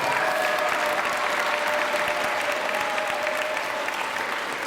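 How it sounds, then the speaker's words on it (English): Steady applause from an audience at a school event honoring the families of PEARLS Hawthorne School, a continuous even patter of many hands sustained throughout. "Let's give your families a nice round of applause."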